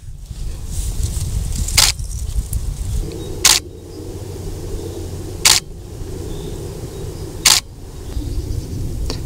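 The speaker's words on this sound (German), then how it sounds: "Ich hoffe, man konnte das Auslösergeräusch von der Kamera schön hören in Verbindung mit den Blitzen" A camera shutter fires three times in sync with a Godox MF 12 macro flash, each a sharp, isolated click about two seconds apart over a low rumbling background.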